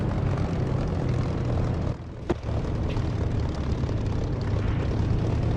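Aircraft engine running steadily on a runway in the DCS flight simulator, a loud continuous drone with a brief dip and a short click partway through, no talking.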